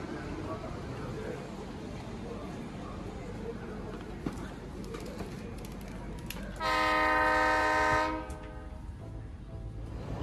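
Train noise at an Indian railway station with a steady rumble of rolling stock and crowd bustle, then a loud, sustained horn blast lasting about a second and a half near the end.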